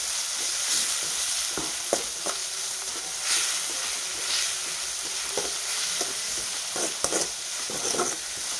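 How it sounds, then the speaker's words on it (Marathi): Onion sautéing in a hot pan for upma, a steady sizzle with scattered stirring scrapes and clicks throughout, close and fairly loud, with no talking. "आणि कांदा आपल्याला छान परतून घ्यायचा। 1 ते 2 मिनिटं लागतील कांदा परतायला।"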